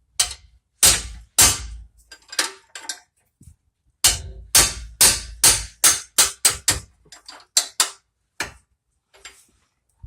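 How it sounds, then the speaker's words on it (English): Sharp metallic hammer blows on a tight rear brake part of a 2010 Chevy Suburban ring out in irregular bursts, some in quick succession, loud and close, with short pauses between groups of strikes. "You have to use the hammer because they're tight."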